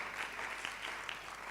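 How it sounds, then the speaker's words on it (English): An audience at a medical college public lecture claps in a brief, even, continuous burst of many hands, moderately distant and steady throughout. "We'll clap for him anyway."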